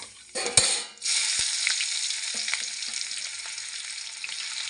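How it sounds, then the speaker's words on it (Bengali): Onions fry in hot oil with black cumin seeds. A brief clatter gives way to a loud, steady sizzle that stays close and continuous, with small stirring knocks through it. "পেঁয়াজটা আমার লাল লাল করে ভাজা হয়ে গেছে"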